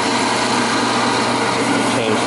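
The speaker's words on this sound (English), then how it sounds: "The engine making noise, something spinning" A Fairbanks Morse light plant generator engine runs steadily, a dense, loud, unbroken drone with a spinning mechanical hum, heard up close at a show with no pauses.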